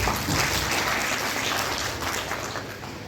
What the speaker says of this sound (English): I wanted you all to give big round of applause for our Dean and Principal